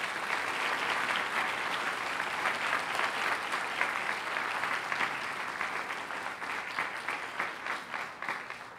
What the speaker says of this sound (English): Let's give a round of applause for these students